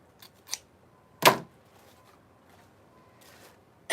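A few crisp scissor snips trimming a ribbon bow for a patriotic grapevine wreath, quiet and spaced apart in an otherwise still room.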